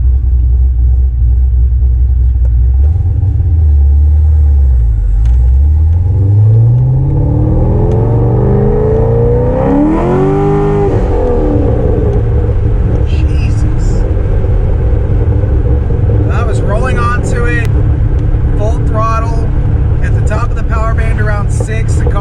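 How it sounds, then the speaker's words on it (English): A Corvette with a 6.2-litre LS3 V8 pulls through the gears, its deep engine rumble rising in pitch with each rev and dropping at the shifts, loud and close, with some talk near the end. "Now we're gonna go through the gears again and let the bald eagle scream, because what else are you gonna do in a Corvette?"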